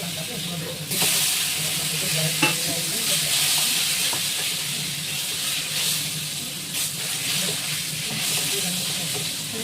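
Potatoes frying in hot oil in a pan for a fish curry, a steady sizzle and hiss with occasional stirring scrapes, close and moderately loud.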